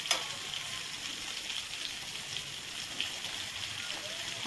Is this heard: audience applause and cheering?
no